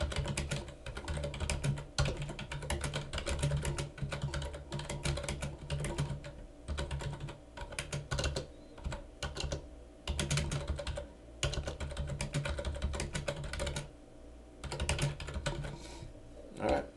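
Fingers type steadily on a computer keyboard, entering a short photo description as rapid clicky keystrokes in bursts separated by brief pauses, close and clear with no talking.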